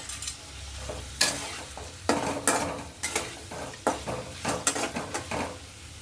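A spoon stirs turmeric powder into a capsicum vangibath mixture in a pan. Close, rhythmic scraping strokes repeat over a soft sizzle, with occasional clinks against the pan.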